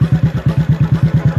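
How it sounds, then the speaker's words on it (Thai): A motorcycle fitted with a KKD aftermarket exhaust pipe idles up close, its deep, loud exhaust thumping in a fast, even rhythm of about seven or eight pulses per second. "นี่เป็นเสียงเดินนิ่งเดินเบาอ่ะ"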